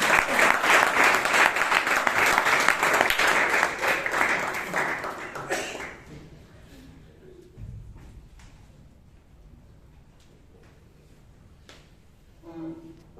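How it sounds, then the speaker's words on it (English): Loud audience applause fills a Toastmasters club meeting in Bangalore for about six seconds, then fades into quieter room noise with faint stray sounds. "Give her a big round of applause."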